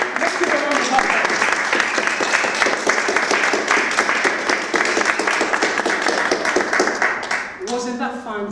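Audience applause at a seminar on overcoming fear, full and sustained clapping from a crowd throughout, with a voice speaking near the end as it fades.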